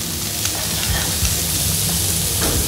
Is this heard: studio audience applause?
no